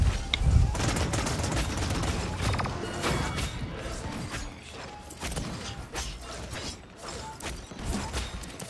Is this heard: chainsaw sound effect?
no